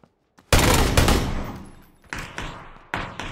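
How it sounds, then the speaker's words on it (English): Gunfire in the PUBG battle royale video game: a loud, close shot with a long reverberant tail, then two more sharp shots spaced about a second apart. "Yep, I'm getting shot at."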